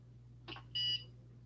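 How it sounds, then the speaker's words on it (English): A short electronic beep from a machine, preceded by a faint click, over a low steady hum. "Beep."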